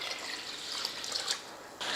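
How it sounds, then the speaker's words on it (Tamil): Water is poured from a tap or vessel over rice, urad dal and fenugreek seeds in a bowl to soak, a steady close splashing stream that swells briefly near the end, with no talk. "இப்போ தண்ணி ஊற்றி ஊற வச்சிடலாம்"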